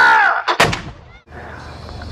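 Wartime re-enactment artillery gun firing one loud, close blast that booms and rolls away, following a shouted command.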